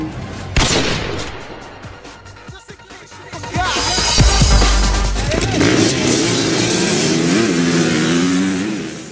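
Engines of race vehicles rev and roar together at the start of a four-hour endurance race, with a sharp bang near the start and a loud sustained mix of revving motors filling the rest, with faint voices in the background.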